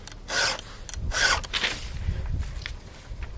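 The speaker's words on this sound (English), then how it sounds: "And so I'll just give it a few swipes." A few rasping swipes of a file sharpening a metal blade, each stroke a short gritty scrape, close and clear, with quieter handling noises between strokes.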